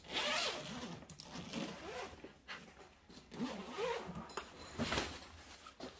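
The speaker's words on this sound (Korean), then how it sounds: "요쪽에 지퍼가 있더라고요. 보니까 열어봤거든요." A zipper being pulled open on a soft case for a Legend Everest 44 compound bow, several quick raspy zipping strokes close by with pauses between them.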